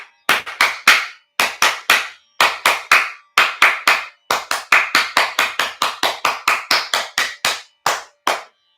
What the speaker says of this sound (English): Clap hard.